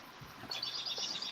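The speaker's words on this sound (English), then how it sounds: "I hear a bird." Bird chirping outside an open window on a very hot day, a brief faint high tweet sequence appearing midway over quiet room noise.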